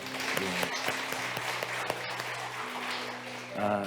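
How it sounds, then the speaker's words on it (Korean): A church congregation at a Sunday worship service applauds together, a dense, steady wash of clapping that fills the room throughout. "박수 한번 쳐줄까요?"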